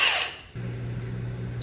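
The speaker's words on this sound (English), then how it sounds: "Get a filler bit, put it to your drill" A power drill fitted with a drill bit whirs steadily for about a second while drilling a hole, after a short burst of hiss, then stops.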